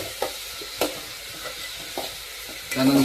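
A spoon scrapes and stirs chopped onion browning in a pan, with soft sizzling beneath a few separate scraping strokes and a louder stir near the end.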